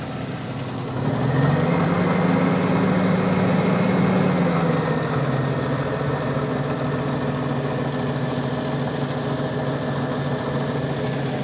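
The engine of a used Maruti Omni van idles steadily, and a light press on the accelerator briefly raises the pitch before it settles back to a constant near hum.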